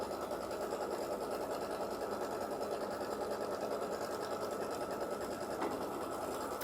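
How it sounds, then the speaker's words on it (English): A sewing machine runs steadily while stitching an A-size quilt block, a continuous, even mechanical hum and rapid needle rhythm that holds at a constant moderate level for the whole stretch, with no talking. "I am stitching the A-size quilt block"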